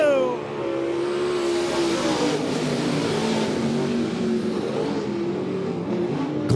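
Late model stock cars roar off the green flag start at Monett Motor Speedway, a loud sustained engine drone with rising revs from the pack, an announcer talking over it.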